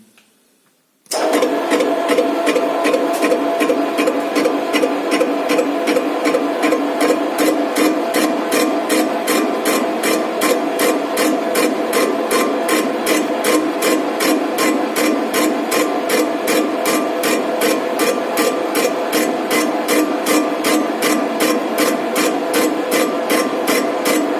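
Machine tool with a cutter taking a fine manual-feed cut through a cast-iron weld on a combine's drive gearbox, a steady rapid rhythmic chatter that starts abruptly and runs loud and continuous.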